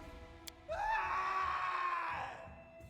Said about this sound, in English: a scream echoes from the hallway